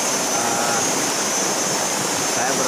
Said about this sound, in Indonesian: Ini adalah sungainya.